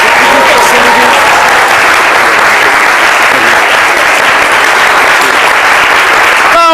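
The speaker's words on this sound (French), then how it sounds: "Nous accompagnons avec les applaudissements." Studio audience applause on a midday TV talk show set, loud sustained clapping from a crowd, filling the whole stretch at an even level.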